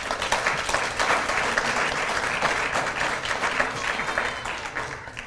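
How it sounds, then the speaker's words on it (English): Steady audience applause, many hands clapping together in a dense, continuous patter that fades slightly toward the end. "Just give yourself a very big hand of applause."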